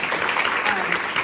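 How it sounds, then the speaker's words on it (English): An audience claps loudly and continuously in a brief burst of applause after a CEO leadership presentation at the University of Minnesota, with voices mixed in. "one more time, a round of applause for Audrey"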